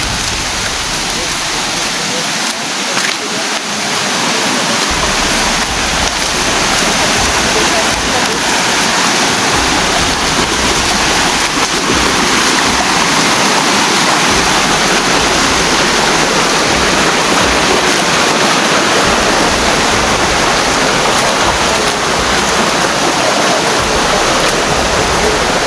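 Water of a creek flows continuously, a steady broadband rush that stays loud and close throughout without pause.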